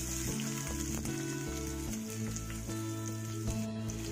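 Cumin and onion sizzle steadily in hot mustard oil, a dense bright crackle that never lets up, with a few low thuds and clinks of the pan and spoon underneath.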